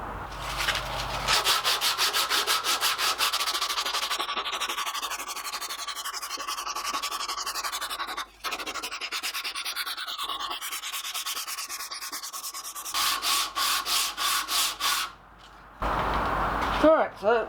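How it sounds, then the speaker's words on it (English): Continuous rough sanding of wood, a harsh abrasive rasp that runs almost the whole time with a couple of brief pauses and some strokes near the end. "Let's give it a bit of a rough sanding so we can get it cleaned up"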